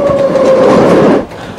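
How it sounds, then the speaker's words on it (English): A passenger train rolls along the rails with a steady loud rumble and a sustained tonal whine for most of the stretch, dropping to a quieter, softer running noise near the end; no voices. "Yes, darling, I'm on the train."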